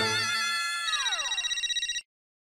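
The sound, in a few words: mobile phone ringtone ringing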